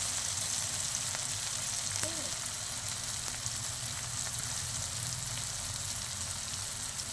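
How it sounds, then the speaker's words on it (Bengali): Onion and tomato frying in a pan, a steady close sizzle and crackle running throughout with no talking. "আমার পেঁয়াজ আর টমেটোটা একটু ভাজা ভাজা হয়ে গেছে।"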